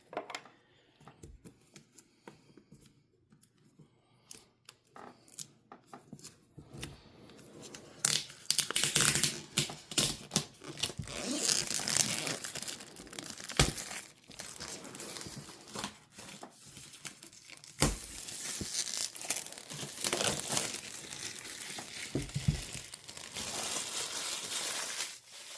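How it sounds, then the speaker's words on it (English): Board game box for The Lord of the Rings: Fate of the Fellowship being cut open and unwrapped: crackling plastic shrink-wrap, tearing and crinkling, with scattered sharp snaps and rustles building up after quieter handling at the start, close and without speech. "If I can make a quick little cut to make it easier."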